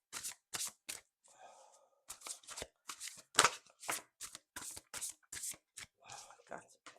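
Rapid bursts of tarot cards being shuffled, several quick riffles with short pauses between them, close and crisp.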